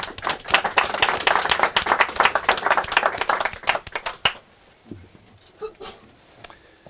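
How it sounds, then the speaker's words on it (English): Applause at a live biotech investor conference: a crowd claps briskly for about four seconds, then it thins out to a few scattered claps and quiet room noise. "We thank you so much for coming today with a warm applause."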